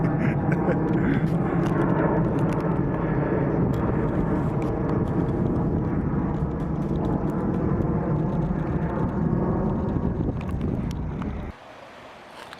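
A steady low roar of an airplane passing overhead beside the River Almond at Cramond, Scotland, fills the air, broad and rumbling with wind noise, then drops away abruptly near the end.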